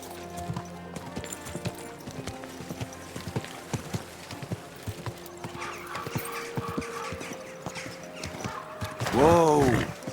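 Horse hooves clip-clop at a steady walking pace on a road in the medieval video game Kingdom Come Deliverance 2, a rhythmic knocking beneath a light musical bed, closing with a loud whinny.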